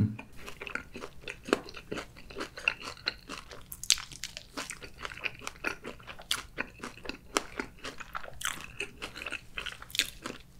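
Crunchy fried chicken coated in mala and cheese sauce is bitten and chewed close to the mic, with dense crisp crackling crunches and steady chewing throughout, quiet and without talk.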